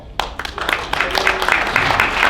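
An audience at a CBRE Philadelphia diversity panel discussion breaks into applause for a panel leader, with dense, steady clapping from a sizable crowd that starts sharply and keeps going throughout.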